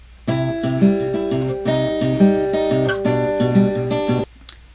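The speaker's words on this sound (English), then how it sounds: "a rolling finger pattern, which occurs in several places throughout the song and sounds like this" Repeating acoustic guitar finger-picking in a steady rolling pattern from a song, plucked notes cycling through the same arpeggio several times, clear and close with no voices.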